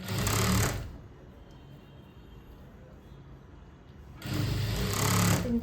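A sewing machine stitches a seam on a polka dot cut-out dress in two bursts of rapid, close stitching, one at the start and one at the end, with a quiet pause between them.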